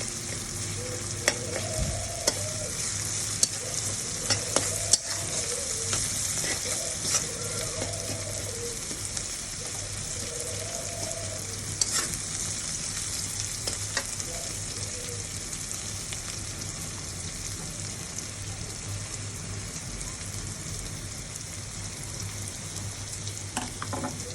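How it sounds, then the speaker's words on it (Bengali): Onions frying in a pan, a steady close sizzle and crackle running throughout, with occasional stirring scrapes and clicks over a low background hum. "পেঁয়াজটা ভাজা ভাজা হয়ে গেছে"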